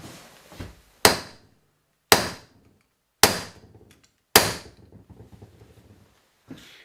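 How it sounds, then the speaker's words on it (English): A kinetic bullet hammer is struck repeatedly while knocking a bullet out of its cartridge case during reloading, giving five sharp, loud impacts at roughly one-second intervals, each with a short ringing decay, close and alone. "The tool we use for this is a Kinetic bullet hammer,"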